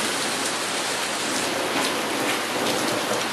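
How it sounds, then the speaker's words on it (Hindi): Steady, heavy rain pours down in Islamabad after a spell of extreme heat, a dense continuous hiss of drops hitting surfaces, close and unbroken throughout with no voices. "जो है वो बारिश हो गई है"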